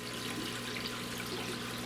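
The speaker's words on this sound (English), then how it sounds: "I'm siphoning water into this tub" Aquarium water siphoned out of a 125-gallon tank into a tub, a steady close rush of pouring, splashing water that continues without a break.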